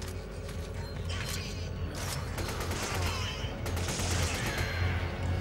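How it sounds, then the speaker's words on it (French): Shotgun fire in the video game Resident Evil 5 sits in a dense, continuous game soundscape with a steady low rumble, mechanical clatter and repeated bursts of shooting, while someone talks now and then. "on reprend le fusil à pompe"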